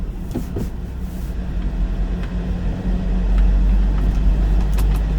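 A manual-transmission car accelerates on a road during a driving lesson, its engine drone building steadily in loudness and pitch, loud and close throughout with no voices over it.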